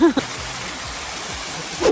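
A waterfall on a rainy day at an outdoor play area, heard as a steady, broad rushing wash of water. Brief voices break in at the start and the end.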